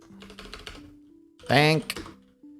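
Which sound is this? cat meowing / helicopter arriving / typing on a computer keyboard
typing on a computer keyboard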